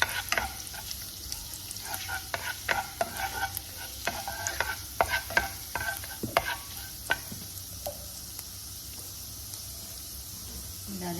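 Whole spices, including a black cardamom, being stirred and roasted in a hot pan for kala chana chaat, with steady sizzling and frequent scraping stirs throughout, close and fairly quiet.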